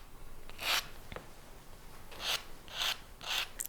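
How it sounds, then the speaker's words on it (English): Coarse pink sanding sponge scrubbed over a small metal cufflink in a series of short, soft rasping strokes, four or five quick passes close by over a quiet hiss, with a faint tick or two between. "now I'm going to move on to the sponge to remove the scratches that were made by the file"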